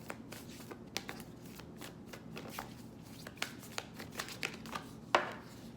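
An oracle card deck, the Moonology deck, being shuffled by hand in a quiet room: a steady run of soft riffling flutters with brighter snaps now and then, one of them sharper and louder near the end.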